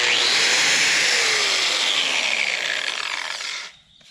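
An angle grinder cuts with a harsh, loud, high-pitched whine and grinding rasp that holds steady for several seconds, then falls off as the cut ends and the disc spins down.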